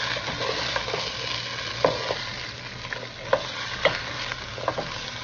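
Pork pata frying in its own rendered fat in a pan for humba, a steady close sizzle with occasional louder pops and spatula stirs.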